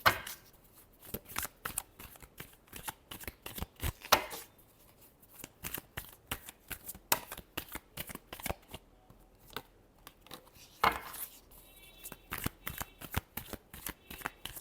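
Tarot cards being shuffled by hand in quick repeated riffles and taps, close and fairly quiet, in short bursts with brief pauses between them.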